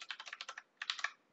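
Quick typing on a computer keyboard: two short bursts of crisp, close key clicks separated by a brief pause, quiet and alone.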